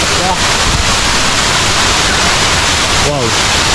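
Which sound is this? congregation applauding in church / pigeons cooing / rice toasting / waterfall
waterfall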